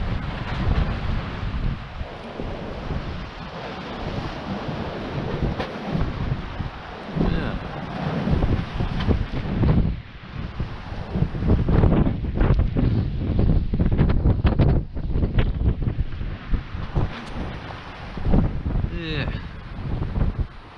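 Gusty wind roars across the microphone on the shore of the Bristol Channel at night, a loud continuous rush that swells and eases, with faint water and surf sounds underneath.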